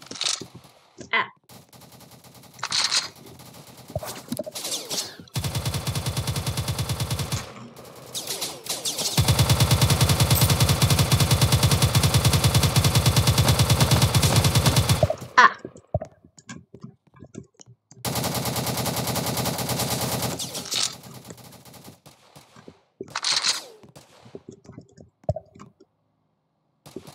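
Bursts of automatic gunfire from the Roblox game Harbor Havoc, with a long sustained volley in the middle and shorter rattling bursts around it, separated by clicks and quiet gaps.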